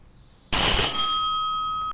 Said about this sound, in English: A 4-inch gong electric bell, or, for louder bell volume, a 12-inch gong electric bell can be opted.